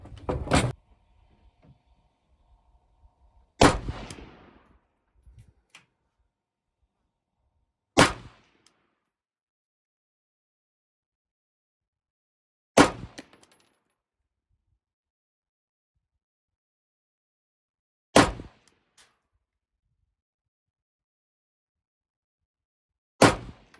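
A Ruger Mini-14 Ranch Rifle with iron sights fires a group at 25 meters on an outdoor range, six sharp single shots spaced several seconds apart, close and loud, with quiet stretches between them.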